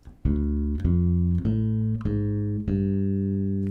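Bass guitar plucking a walking bass line up the octave, five separate round, sustained notes in an even steady pulse, close and clean with no talking.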